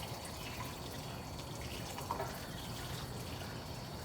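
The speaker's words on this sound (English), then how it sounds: "right here we just got the watering can, and we're just going to water it really well" A watering can pours onto tomato plant soil in a big pot, giving a soft, steady trickle and patter that stays even throughout, faint and close.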